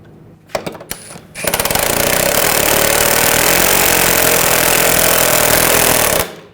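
A power tool runs the rear upper shock nut onto a 2007–2013 BMW 328i, a few sharp clicks and bursts first, then a loud, steady rattling whir held for several seconds before stopping abruptly.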